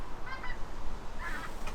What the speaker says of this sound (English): More geese. Yeah, loads more geese.